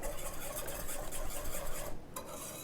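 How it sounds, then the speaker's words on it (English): Pretzel-crumb chicken coating seasoned with pepper and a couple teaspoons of salt gets a final mix, a steady close scraping and stirring rasp that runs continuously and breaks off briefly near the end. "And now, give this one final mix."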